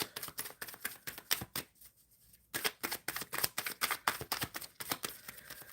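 Oracle cards being shuffled by hand, a quick series of crisp, close riffling slaps in bursts with one brief pause, quiet and with no voice over it.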